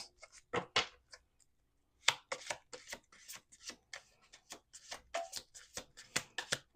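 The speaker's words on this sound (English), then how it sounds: "We're going to do two more shuffles." Close-up playing cards being shuffled in quick rustling bursts, a brief pause, then a longer run of crisp, rapid card flicks.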